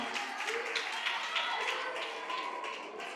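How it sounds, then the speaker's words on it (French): Audience applause at an inter-class school quiz duel, a dense steady patter of many hands clapping throughout, with faint voices mixed into the crowd noise. "Applaudissez pour le public."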